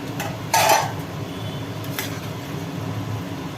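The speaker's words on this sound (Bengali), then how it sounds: "ফুট উঠে গেছে ঢাকনা তোলা হলো এইবার ওর ভেতরে পটলগুলোকে দিয়ে দেওয়া হলো" Whole pointed gourds dropped into a pot of boiling water after the lid is lifted, a short clatter and splash of metal and vegetables, then a faint tap over a steady background bubbling hum.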